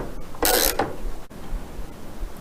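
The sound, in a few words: tightening a nut with an Allen key and spanner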